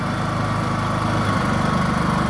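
A Kraft & Dele KD 187 portable generator runs without load, a steady close engine drone with a constant low hum and slight fluctuation, no talk.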